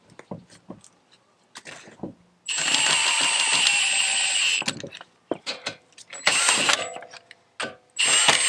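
A ratchet snugs wheel nuts on a car wheel with bursts of rapid clicking, alternating with short taps and clacks of the tool and socket, close and clear with no talk.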